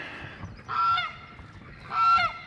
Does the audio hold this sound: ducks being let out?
yes